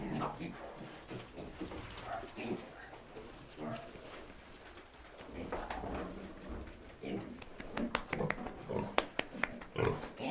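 Pigs grunt and snuffle at close range, with scattered squeals and clatters, while a person speaks intermittently over the animals.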